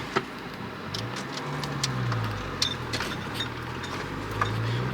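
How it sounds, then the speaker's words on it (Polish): A Toyota car runs at a field edge by a forest, with a low engine hum rising and settling as it pulls away. Scattered clicks and light knocks sound over the rumble. "Pal samochód i jedziemy"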